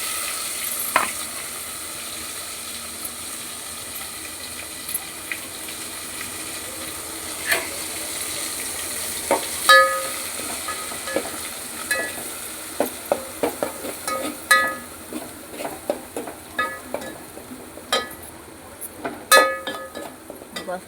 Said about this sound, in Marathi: आता ही तेलात टाकायचं मसाला.